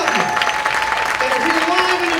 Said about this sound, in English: I would like all the veterans in the room to raise their hand and be applauded.